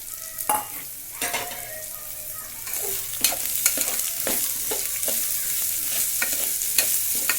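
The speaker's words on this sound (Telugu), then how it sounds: "బాగా ఫ్రై అవ్వనివ్వండి" Chopped carrots fry in a pan with a steady sizzle while a utensil stirs them, producing scattered scraping knocks over the crackle, close and moderately loud.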